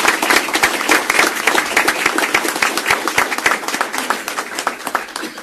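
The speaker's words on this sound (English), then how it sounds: "So if you can all join me in a great hand of applause." An audience in a county commissioners court breaks into sustained applause honoring a high school team, dense and steady clapping throughout with no speech over it.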